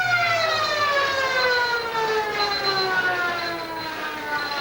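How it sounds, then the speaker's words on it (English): A loud, sustained siren wail with a slowly falling pitch at a football ground, ending a quarter, sounding alone over faint background noise. "as the siren sounds"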